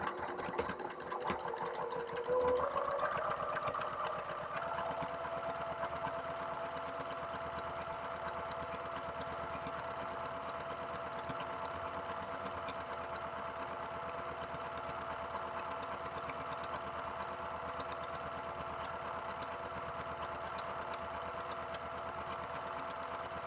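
A sewing machine runs a continuous row of stitching along the top edge of a drawstring bucket bag panel at a quarter-inch seam, a steady quiet mechanical hum that carries on unbroken.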